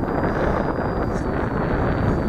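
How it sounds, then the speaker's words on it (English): Loud, continuous wind buffeting the microphone outdoors, a dense low rumble that never lets up for the whole stretch. "I'm afraid it's really windy."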